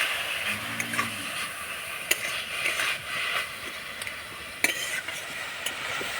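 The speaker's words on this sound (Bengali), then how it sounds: "এবার নাড়াচাড়া করে পুরটা তৈরি করে নেব" Jaggery and a splash of water are stirred into a filling for pitha in a pan, heard as intermittent spoon scrapes and clicks over a soft sizzle, close and fairly quiet, with no talking.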